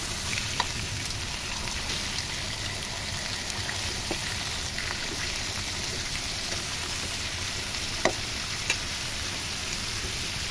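Pumpkin pieces with a few bits of mango frying with salt, turmeric and chili powder, a steady close sizzle with occasional faint clicks of stirring.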